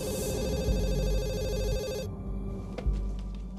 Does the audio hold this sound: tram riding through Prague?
no